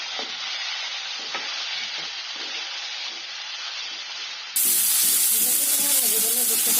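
Cut bilimbi frying with five-spice in a pan over medium flame, a steady soft sizzle and hiss that grows brighter and louder near the end as the fruit hits the hot oil.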